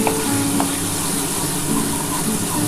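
Capsicum frying in a pan with spiced water, a steady loud sizzle with a hiss that runs through the whole stretch without a break, close by, and no voices.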